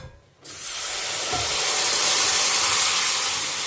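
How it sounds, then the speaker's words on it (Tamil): Spice powder hits hot oil: after a brief quiet moment, a loud, dense hissing sizzle bursts up and holds steady, close and unbroken, with no voices. "எண்ணெயில் பொடி பொரிஞ்சுதுனாக்கா அருமையாக இருக்கும் வாசனை"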